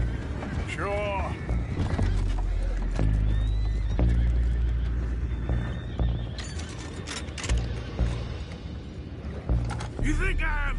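Several horses in Red Dead Redemption II whinny and neigh amid heavy clopping hooves, loud and close, with other voices and commotion underneath.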